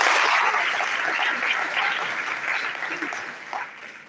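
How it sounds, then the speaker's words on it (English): An academic audience gives sustained applause at a society event, a dense wash of many hands clapping at once. It stays steady and fairly loud, then gradually thins and fades toward the end. "I think he deserves a round of applause for that."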